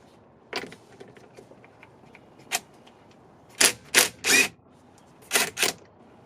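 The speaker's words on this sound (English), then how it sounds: "Alright, so I'm going to remove this nut. Use the impact," An impact wrench with a 19 mm socket removes the steering wheel nut on a 2004 Honda Pilot, giving a few short, sharp rattling bursts in close succession after some faint clicks, with no talk.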